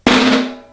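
An overly tight buzz roll on a samba caixa snare drum, one short pressed, choked buzz lasting under a second, close and loud, cut off as another stroke begins.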